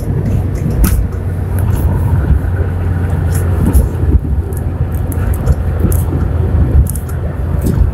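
Renault Symbol 2 on 95 petrol, driving at a steady pace, a loud continuous low engine and road rumble inside the cabin with faint scattered clicks and rattles.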